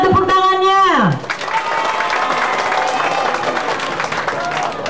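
A crowd at a military anniversary event claps loudly and steadily after a voice calls out, the dense applause filling several seconds with scattered shouts mixed in.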